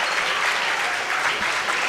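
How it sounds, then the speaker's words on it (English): Home crowd at a Mount Union NCAA basketball game giving an ovation to player Braden Poole, a steady swell of applause and cheering. "Braden Poole gets a nice ovation from the Mount Union home crowd"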